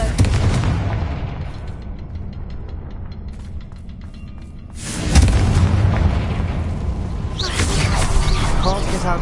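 A heavy fiery blast from the Confringo spell in Hogwarts Legacy, a deep booming burst that swells midway over a rumbling game soundscape, followed by crackling magical effects.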